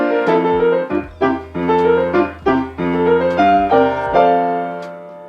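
A six-measure phrase on solo piano, sounded as a series of clear, sustained chords in steady rhythm, close and fairly loud with no voice over it.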